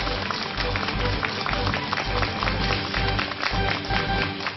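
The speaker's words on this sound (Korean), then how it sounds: "박수로 맞이하겠습니다." A studio audience on a Korean variety show applauds, with dense, steady clapping filling the room at a constant level throughout.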